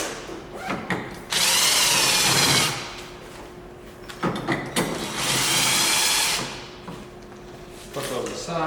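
A power drill whirs in two sustained runs of about a second and two seconds while removing screws from SUV interior trim, close and loud, with clicks and handling noises between and someone talking.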